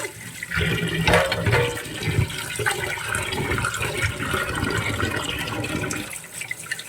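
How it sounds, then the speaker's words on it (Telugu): Fresh Godavari river fish is rinsed in water for a fish curry. Water sloshes and splashes steadily and fairly loudly, in a continuous wash with no talking. "ఫ్రెష్ చేప మంచిగా శుభ్రంగా కడిగేసుకోవాలి. ఒక 5-6 సార్లు కడిగేసుకొని"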